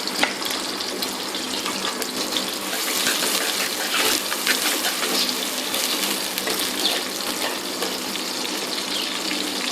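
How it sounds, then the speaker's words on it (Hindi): Onions fry in hot oil in a pan, a dense steady sizzle that stays fairly loud and continuous throughout, with no voices. "प्याज को फ्राई करते हैं, उसको लाइट ब्राउन करते हैं।"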